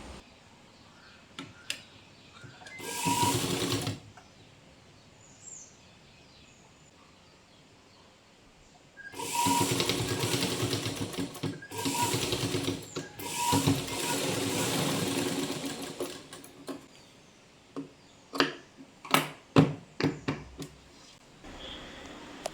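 A sewing machine stitches a petal pan neck, running in several bursts of steady whirring with pauses and small clicks between them, close and alone with no voices.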